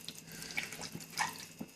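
Water being poured into a pot of mutton curry with onions, a faint, close splashing and trickling with a few drips, heard alone without talking.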